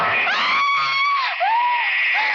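A woman's long, shrill scream in an old-time 1949 horror radio drama, loud and close, holding a high pitch with a brief break before rising again.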